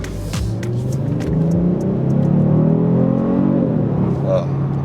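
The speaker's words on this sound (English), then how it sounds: "It's got a enhancement on the muffler sound. Increases the volume" 2020 Kia Stinger GT2 with enhanced muffler sound revving up, a loud deep engine rumble swelling and holding steady before easing off, heard from inside the car with a sharp knock at the start.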